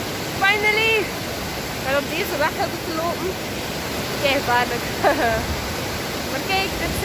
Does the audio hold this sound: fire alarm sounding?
no